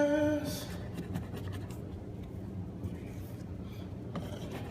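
Steady rough scraping of old wallpaper being stripped from a wall with a hardware-store scraper, continuous close-up rasping with a brief tonal sound at the start and no speech.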